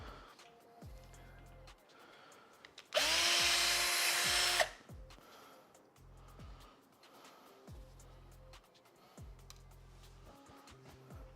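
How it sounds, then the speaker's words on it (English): A single loud burst of power drilling lasting about two seconds, drilling the top off a donor case, standing out sharply over quieter background clatter and low engine-like hum. "the first port of call is going to be drilling off this top"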